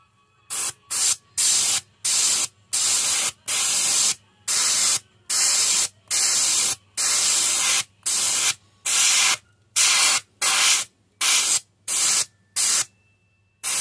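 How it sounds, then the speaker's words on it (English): Aerosol silver spray paint hisses onto a perch-pattern fishing lure in about fifteen short, evenly spaced bursts, loud and close with brief silences between each spritz. "we just spritz a little silver back on that top"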